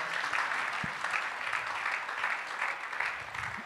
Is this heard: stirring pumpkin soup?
no